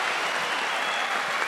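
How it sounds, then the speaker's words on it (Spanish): A brief burst of steady, full applause from a comedy cabaret audience, continuous and fairly loud with no speech over it. "¡Fuerte el aplauso para David y Margarita!"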